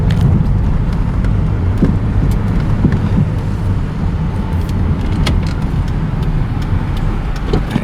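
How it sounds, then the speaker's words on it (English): Cabin noise inside a 1994 Saturn SL2 Homecoming Edition on the move, a loud steady rumble of engine and road with wind rush through partly open windows and occasional small knocks. "Put the windows up a little bit to reduce the wind noise."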